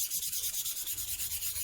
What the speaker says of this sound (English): So let's give that a light sand and then stick it down.